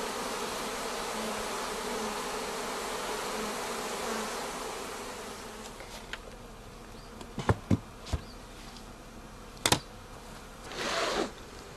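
Honeybees buzz densely around a colony in a steady, close hum, which thins out later while sharp clicks and rustles cut through.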